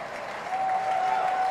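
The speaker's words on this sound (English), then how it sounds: "This crowd getting into it at Clipper Magazine Stadium" A baseball crowd applauds and cheers at Clipper Magazine Stadium during a minor-league playoff game, a short burst of moderate clapping that swells slightly and is heard alone.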